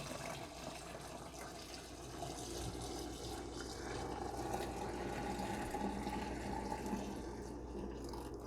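A crushed dark cherry wine mixture pours steadily into a container as a continuous, fairly quiet liquid rush and gurgle that swells slightly midway, with no talking.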